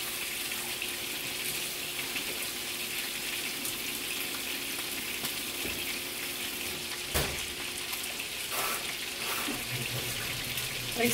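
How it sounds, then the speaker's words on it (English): Tap water runs steadily into a kitchen sink while lentils are rinsed under it, a constant close hiss with a few clinks and splashes near the end and no talk. "You rinse them just like other beans before you use them."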